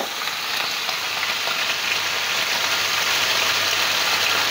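Boiled and toasted chicken tails frying in hot oil, a steady, loud, dense sizzle that holds evenly without a break.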